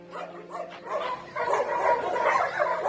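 A blind dog runs excitedly to its returning owner, giving eager yips, whimpers and short barks over a few seconds, close and fairly loud.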